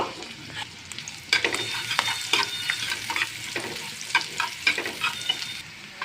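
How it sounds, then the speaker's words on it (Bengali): Chopped onions sizzle in hot oil while a utensil scrapes and stirs the pan in repeated strokes. "এখন আমি এক বাটি করে পেঁয়াজ কুচি দিয়ে দিব"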